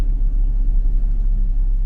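A 1982 air-cooled VW Vanagon Westfalia van drives slowly into a tent, its engine a steady low rumble that stays loud and even throughout, with no talking over it.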